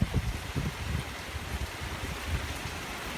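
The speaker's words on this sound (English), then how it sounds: "The wind is picking up." Strong wind from Hurricane Sally buffets and rushes steadily, with irregular low gusts thumping close against the microphone; no one speaks.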